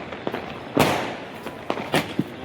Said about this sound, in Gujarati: આજે તો જોરદારના ફટાકડા ફૂટે છે